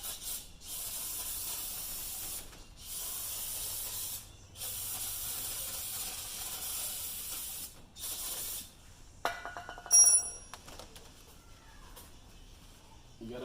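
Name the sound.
spraying brake cleaner on car brake parts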